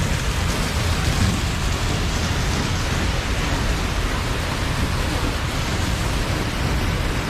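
Heavy rain pours down steadily, a loud and constant hiss of water with no pauses.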